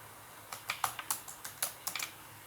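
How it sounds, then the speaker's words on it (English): A web address being typed on a computer keyboard, about a dozen quiet, close key clicks in quick uneven bursts over a faint background hiss. "Now let's type plain leafrich.com."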